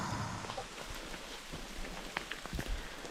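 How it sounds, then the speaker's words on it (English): Rain falling on a wet mountain hiking trail in Kahurangi, New Zealand, a steady hiss with scattered nearby drops and knocks, fairly quiet overall. "The rain's intensifying."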